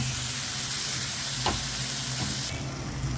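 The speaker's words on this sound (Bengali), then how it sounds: "মশলাটা বেশ সুন্দর কষানো হয়ে গেছে আমি এবারে এর মধ্যে সামান্য জল অ্যাড করে দেব" Water added to frying masala in a pan for a doi katla fish curry, producing a loud, steady, close sizzle and hiss that stays constant, with a faint scrape of stirring, no talk.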